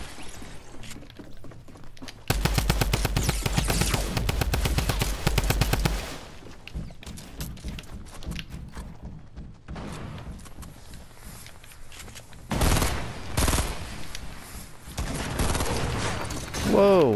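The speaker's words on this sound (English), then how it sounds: "why are you shooting me from that far with that thing, bro?" Drum gun fire in the Fortnite video game, with a dense rapid burst of automatic shots for several seconds, then scattered distant shots and a second heavy burst, while a voice talks over it.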